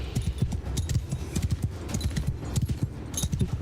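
Horse hooves pound in a steady galloping clip-clop in Mount & Blade II: Bannerlord as the rider circles slow enemy troops, loud and continuous throughout with no talk.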